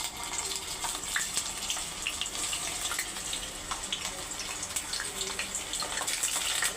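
Eggplant pieces fry in hot white oil for baingan bharta, a dense, continuous sizzling hiss with crackling pops, close and loud throughout.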